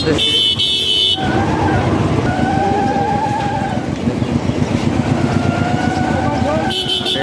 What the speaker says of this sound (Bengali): গাড়ি ভরে ভরে ইতিমধ্যে গরু চলে আসছে হাটের